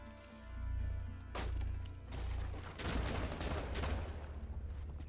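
Shotgun blasts in the video game Rainbow Six Siege: several sharp, loud shots in quick succession over a low droning game soundtrack, with crashing debris trailing after them.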